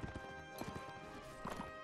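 Horse hooves clip-clop in a quick, steady rhythm during a medieval battle in Mount & Blade: Warband, loud and close, with clashing game noise around them.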